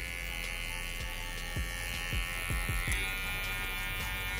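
Electric hair clippers fitted with a number 1 guard buzz steadily and close while cutting hair, a constant motorized hum with a few brief low thumps of handling near the middle.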